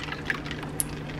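Lemonade and hot water poured over ice in a cup, a soft liquid splashing with a couple of faint clinks, close and quiet.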